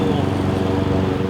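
A lawn mower engine drones steadily and close, a continuous loud running hum with even pulsing throughout.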